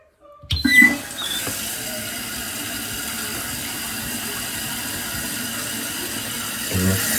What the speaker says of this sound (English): we're gonna go ahead and turn the water back on